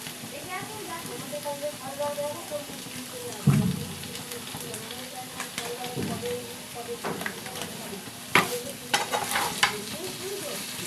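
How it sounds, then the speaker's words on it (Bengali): Paneer stirred with chili sauce and tomato sauce in a pan, a steady low sizzle under scraping spatula strokes, with a few louder knocks against the pan around the middle and near the end. "এটাকে পাঁচ মিনিটখানে ভালো করে নাড়াচাড়া করে নেব"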